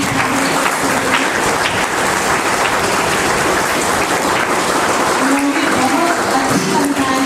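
Loud, sustained applause from a school audience after first- and second-grade students recite poems at a Hindi Day event, steady clapping throughout with faint voices underneath.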